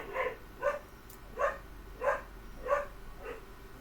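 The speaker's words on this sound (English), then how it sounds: "Y'all hear that dog barking all of a sudden?" A dog barks out in the woods, six evenly spaced single barks about two-thirds of a second apart, moderately distant and clear over a quiet background.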